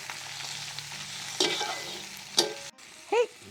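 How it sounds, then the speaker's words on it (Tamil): Green chillies and tomato frying in a pan for a mutton chops ghee roast, a steady soft sizzle broken by a few sharp scrapes and knocks of a stirring utensil, close by. "இது கொஞ்சம் நல்லா வறுக்கலாங்க"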